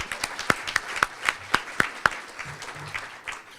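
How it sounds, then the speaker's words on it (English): Applause at a chamber of commerce luncheon, with several sharp, evenly spaced claps from one nearby person standing out over a thinner scattering of hands that fades toward the end. "Let's please give him a round of applause."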